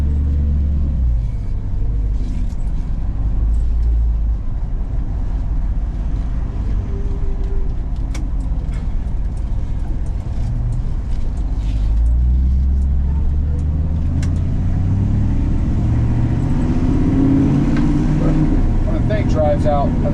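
A 1967 Ford F100 pickup truck on a test drive, its engine a steady low rumble from inside the cab that rises as it pulls through the gears, with someone talking over it.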